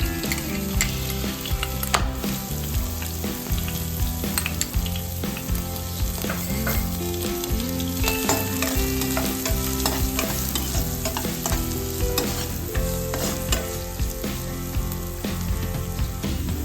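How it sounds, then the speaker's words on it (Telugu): Onions fry in hot oil with cumin and mustard seeds, giving a steady close sizzle with frequent crackles and pops and occasional stirring clatter throughout. "జీలకర్ర ఆవాలు వేసి నెక్స్ట్ కట్ చేసిన ఆనియన్ ముక్కలు వేసి కొంచెం ఫ్రై చేయాలి."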